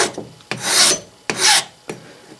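Rasp filing wood while shaping a new wooden handle for a brass hammer, three strong scraping strokes with short gaps between them, close and loud with no talking.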